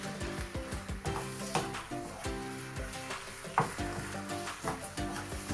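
Ginger and garlic sautéing with chicken in a pan, a constant close sizzle broken by repeated scraping and clattering strokes of stirring.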